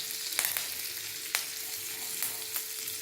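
Spices and curry leaves fry in a pan, a steady close sizzle with a few sharp clicks as a spoon stirs and scrapes, with no voices.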